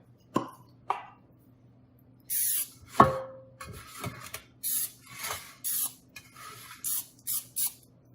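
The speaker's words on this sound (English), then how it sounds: "we can spray our 8x8 pan with Pam" Several short hissing bursts of Pam cooking spray onto an 8x8 baking pan, some longer and some clipped, after a few light knocks and clatters, close and fairly clear.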